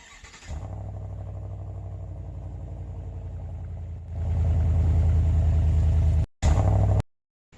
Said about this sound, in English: So I wanted to make this truck have a little rumble for yourself.